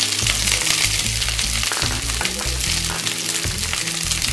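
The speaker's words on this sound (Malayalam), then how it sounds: "ഇതിലോട്ട് കടുക് ഇട്ട് കൊടുക്കാം, കറിവേപ്പില ഇട്ട് കൊടുക്കാം, ആ സവാള ഇടാം," Mustard seeds, curry leaves and onions fry in a hot pan, giving a loud, dense, continuous sizzle and crackle with no voices.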